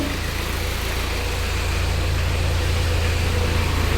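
Mitsubishi Pajero idling with its cooling fan spinning and the aircon compressor engaged, a steady close hum and low rumble with a hiss of airflow, unbroken and alone.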